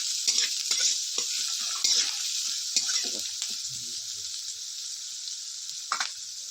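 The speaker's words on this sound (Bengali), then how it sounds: "পেঁয়াজটাকে এবার ভালো করে একটু ভাজা ভাজা করবো।" Chopped onions frying with whole garam masala spices for chicken biryani, a steady close hiss of sizzling oil with occasional stirring clatters throughout.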